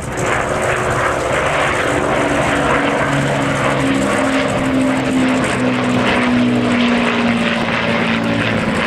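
Vintage propeller warbirds flying past at the Flying Legends 2011 air show, a steady loud engine drone with throbbing, beating tones that hold across the whole pass with no talk.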